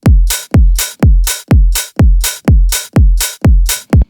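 A punchy four-on-the-floor tech house drum loop with a deep kick on every beat and crisp closed hi-hat ticks between, hi-hat panned slightly right, steady and loud with no voices.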